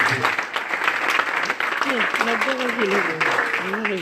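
A church congregation claps and cheers while voices ring out over the applause, a dense, continuous wash of sound throughout.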